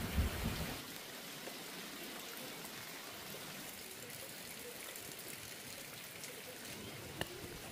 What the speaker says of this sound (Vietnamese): Ôi, mưa rồi con ơi.